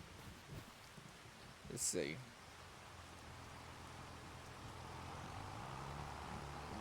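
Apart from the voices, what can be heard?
rain falling on a field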